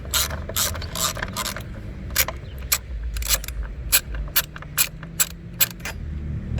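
A hand ratchet clicks in quick bursts while loosening the battery bracket bolts on a 2017 Mazda 6. The sharp, close pawl clicks come in uneven runs over low background hum, with no talking.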